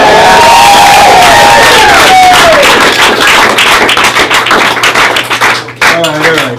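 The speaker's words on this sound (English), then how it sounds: "You're out there clapping your ass off" An audience at a one-man comedy show claps and cheers loudly, a dense burst of applause with whoops that keeps going, while a whistle-like tone rises and falls early on.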